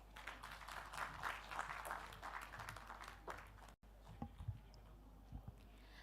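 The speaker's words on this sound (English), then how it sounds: "A hearty round of applause for Dr. Swarupa" An audience at a panel discussion on rural women entrepreneurs claps in a dense, moderate round that drops off sharply, leaving a few scattered claps over a low mains hum.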